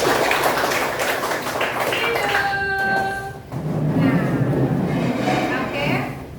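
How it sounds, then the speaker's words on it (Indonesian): Classroom of students clapping together on a teacher's cue, a dense wash of hand claps with children's voices and chatter mixed in, brief tonal sounds midway, then continuing noisy claps and talk. "kasih tepuk tangan dulu"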